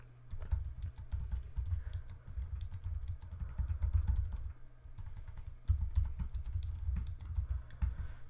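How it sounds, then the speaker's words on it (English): A survey question being typed on a computer keyboard, steady close key clicks in quick bursts with a short pause midway, moderately quiet and without speech. "then you're going to type in the question."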